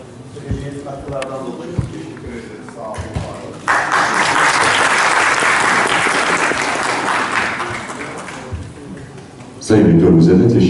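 At a conference talk, someone speaks briefly before an audience breaks into sustained applause that holds loud and steady for several seconds, then fades as speech resumes over the room.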